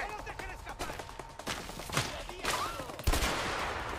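Video game gunfire, several loud sharp shots and short bursts spaced irregularly amid game sounds, with voices talking in the background.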